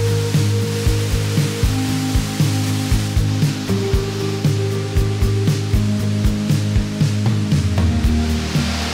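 Waterfall just past a cave, falling into a pool with koi below: a continuous rushing wash with a low steady hum and scattered light ticking clicks throughout.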